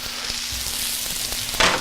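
Steady, close crackling sizzle of zucchini frying in a hot pan, with a brief scrape of stirring near the end.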